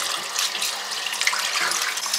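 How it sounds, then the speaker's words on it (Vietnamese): Tap water runs steadily into a sink as a rinsed white shirt is drained, a continuous close hiss and splash with no talk over it. "Bây giờ mình sẽ xả nước đi."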